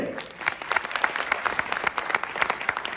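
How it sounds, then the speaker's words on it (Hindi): An audience at a company seminar in Delhi bursts into sustained applause for a product launch, dense clapping from many hands, loud and steady throughout. "सबसे पहले एक जोरदार ताली हो जाए"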